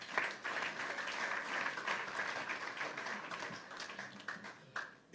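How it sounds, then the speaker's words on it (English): An audience at a university student event in Ghana breaks into steady applause, a dense, sustained wash of clapping from many people that swells and fades slightly, heard from some distance without talk over it. "Clap for yourself again."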